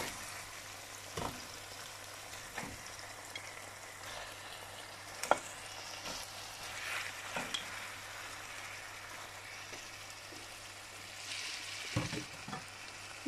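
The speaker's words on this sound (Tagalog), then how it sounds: "Gisa lang natin siya ng mga 3 minuto." A salmon head sautés with ginger, tomato and onion, giving a steady low sizzle and frying hiss with occasional stirring scrapes and knocks in the pan, close by and moderate in level, with no talking.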